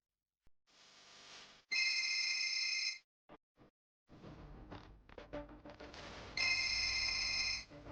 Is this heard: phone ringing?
yes